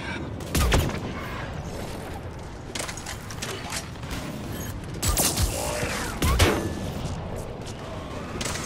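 Combat in the Mass Effect 3 multiplayer shooter: several sharp, loud sniper rifle shots crack out, spaced a second or more apart, over mechanical clatter and background battle noise.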